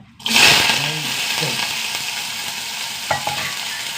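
Small chopped onions drop into hot coconut oil and sizzle sharply at first, then settle into a steady fry with stirring scrapes close by.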